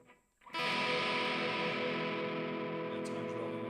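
A semi-hollow body electric guitar rings out after a brief quiet start, one strummed chord sustaining loudly with effects-like shimmer while pickup settings are tested.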